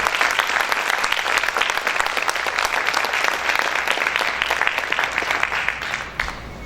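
Loud, steady applause from a church congregation during an apostolic worship service, many hands clapping densely for several seconds before easing off briefly at the end.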